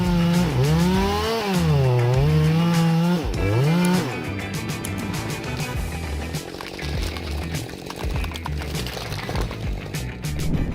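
A chainsaw cuts into a rotting fir tree, its engine rising and falling in pitch through several loud revs before settling into a rough, steady buzz as the chain bites into the wood.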